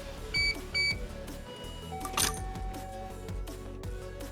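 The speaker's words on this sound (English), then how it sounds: "that generic cash register sound that plays when someone pays with cash" A cash register in the VR game Mini-Market Simulator gives a couple of electronic beeps and then a bright ringing chime, heard over a steady background music bed.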